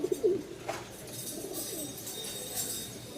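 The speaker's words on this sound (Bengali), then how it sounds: "নরের খুবই ডাক নতুন জায়গায় নিয়ে আসছি যার কারণে একটু ডাকতেছে কম" Male pigeon cooing in a new enclosure, a short low coo early on, then quieter and sparse, with light background hiss.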